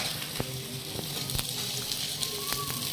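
Egg paratha fries in oil on a dosa pan with a loud, constant sizzle and crackle. Sharp pops and spatters break through now and then, and no one speaks.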